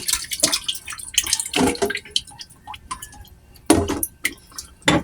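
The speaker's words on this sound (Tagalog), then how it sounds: "Lagyan natin ng konting tubig." Small splashes and drips of water go into a pan of vinegar for milkfish paksiw, coming in a few short bursts with quiet gaps between, close up in a home kitchen.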